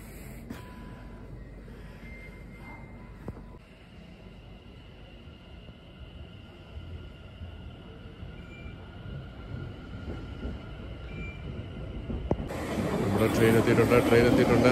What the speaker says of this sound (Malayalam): ട്രെയിൻ എത്തിയിട്ടുണ്ട്.